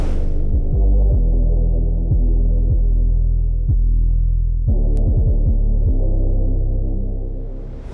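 An 808 bass pattern in an acid-style hip-hop beat plays as deep, booming sustained notes that slide between pitches, loud and alone.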